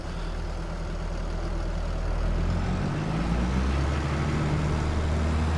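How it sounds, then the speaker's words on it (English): A strained, low-pitched engine from a vehicle in Farming Simulator 25 drones heavily and steadily close by. Partway through, its pitch shifts as the motor bogs down and then labours on. "The engine sounds like it's gonna blow up."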